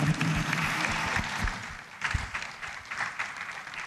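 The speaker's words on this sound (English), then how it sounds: "Ladies and gentlemen, please a huge round of applause." Applause from a conference audience at an HR forum, a moderate patter of many hands with uneven swells and some individually distinct claps, continuing at a steady medium distance.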